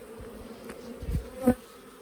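Honeybees buzzing close by around a hive on their first winter-spring flight, in a soft, continuous drone, with a brief louder pass of wings near the end.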